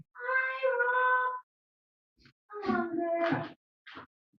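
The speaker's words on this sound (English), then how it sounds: "I can hear the cat, he's back." A cat meows twice, drawn-out calls close by with a short pause between them and a brief faint sound near the end; the cat has an injured paw.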